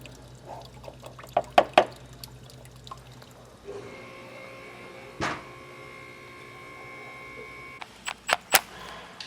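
Engine coolant drips from a Nissan 370Z engine block into a drain pan during a supercharger install: scattered sharp drips and small splashes, some in quick clusters, over a quiet workshop hum.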